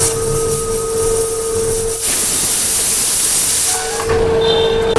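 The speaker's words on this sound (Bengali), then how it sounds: "তেল গরম হয়ে গেছে, দেখো ভাজা হচ্ছে এখন।" Fuchka puris fry in hot oil with a loud, continuous hiss and bubbling roar that swells sharply midway and eases toward the end, over a steady background hum; no voices.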